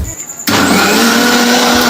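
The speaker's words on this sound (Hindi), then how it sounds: "सिद्धू भाई की मिक्सी इतना ज्यादा पावरफुल थी" An electric mixer grinder switches on abruptly and roars loudly and steadily while blending momo chutney, a dense close whine that fills the rest of the moment.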